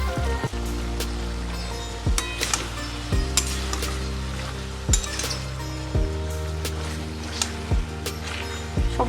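Lau shak chorchori, gourd greens cooked with sugar, sizzles steadily in a pan while a spoon scrapes and stirs it in repeated strokes, the clanks and scrapes landing about once a second over the constant frying hiss.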